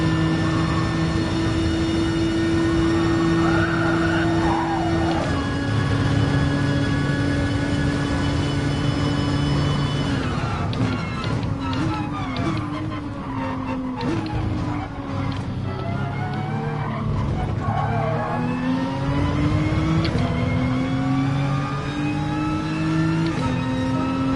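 A Nissan Nismo race car in Gran Turismo Sport, GT4 class, holds a loud, steady engine drone throughout, pitch climbing and dropping through gear changes and revving at the midpoint, with no talk over it.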